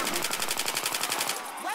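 Rapid automatic gunfire from a weapon in the video game Left 4 Dead 2, a steady burst of closely spaced shots rattling on for nearly two seconds before tapering off, loud and close.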